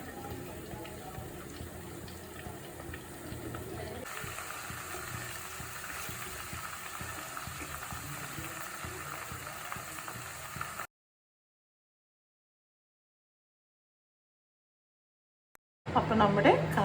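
Homemade hair oil boils in a pan, giving a steady bubbling hiss for about eleven seconds, then silence before a brief louder burst at the end.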